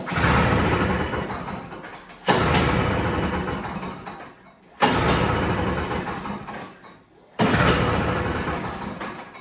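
A Toro Snow Commander single-stage snow blower that has been left sitting gets four recoil pulls with the choke fully on; each pull brings a loud burst of noise that fades away, and the engine never catches.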